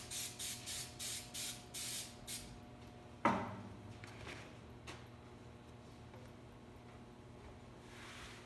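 A spray tack aerosol can hisses in a series of about seven short, even bursts during screen printing, then a sharp clack, followed by quiet room noise.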